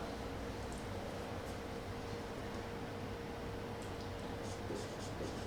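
Sentence being written on a classroom board: a continuous faint scratchy stroke sound buried in heavy steady background hiss, no voices.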